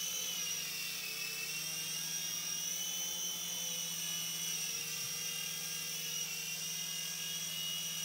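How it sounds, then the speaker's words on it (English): A Sky Rover Vigilante RC toy helicopter hovers close by with a steady high-pitched electric whine and buzzing rotor hum, holding constant for the whole stretch with no talking. "The helicopter's pretty much holding altitude as much as it can."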